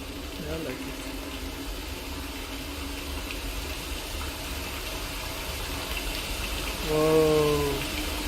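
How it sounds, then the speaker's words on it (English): A waterfall in the video game Dear Esther produces a continuous, even rush of falling water. A voice is briefly heard over it, and it grows slightly louder near the end. "Oh, this is a nice waterfall."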